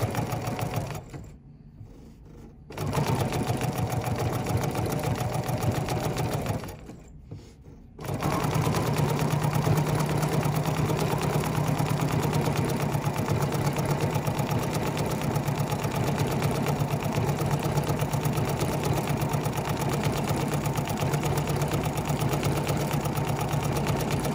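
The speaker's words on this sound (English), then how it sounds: "I'm just going to sew to the very tip" A sewing machine runs a decorative stitch on a book project in a long, even, close whir. It halts twice briefly near the start, then runs without stopping to the end.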